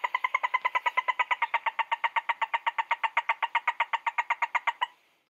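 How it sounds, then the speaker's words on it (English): A toad calls alone in a long, steady trill: rapid evenly spaced pulses, close and clear, stopping abruptly after about five seconds. "What do you think toads sound like when they're talking to other toads?"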